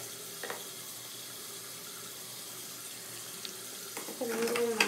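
Tap water runs into a cup for mouthwash, a soft, steady trickle from a bathroom faucet that swells louder near the end, with quiet background noise before it.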